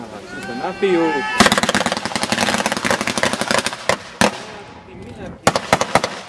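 Gunfire shot into the air during a battle reenactment in Nitra, rapid bursts of sharp cracks firing in quick succession, loud and close, with short pauses and a final flurry of shots.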